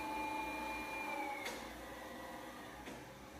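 A motorized 3-axis MD3 i2 positioner rotating, a steady whirring hum with a faint tonal whine and a couple of brief ticks, running on its own without talk.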